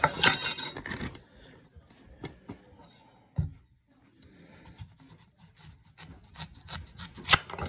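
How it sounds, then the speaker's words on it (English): A knife slices through rutabagas, cutting them into diamonds, giving rough rasping, scraping strokes with a few sharp knocks on the board, loudest at the start and end of the passage. "these rutabagas, I'm going to kind of slice them"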